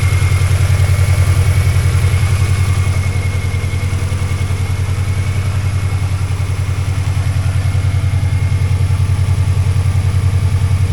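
A 2003 Mini Cooper engine idles loudly and steadily up close, a continuous low throbbing drone with a slight mechanical clatter, running alone without any talk.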